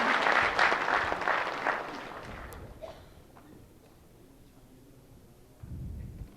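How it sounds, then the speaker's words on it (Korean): A crowd claps at a university president's farewell and inauguration ceremony, strong applause for the first couple of seconds that quickly dies away into quiet room noise. "박수 한번 부탁드립니다."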